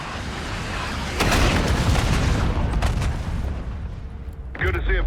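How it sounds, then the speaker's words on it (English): A mortar round hits in the Call of Duty: Black Ops 6 campaign: a heavy, close boom bursts in and rumbles for several seconds over the battle noise, followed by a voice speaking at the end. "Mortar on the way."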